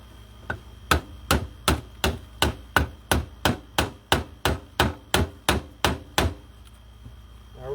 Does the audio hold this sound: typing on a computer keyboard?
no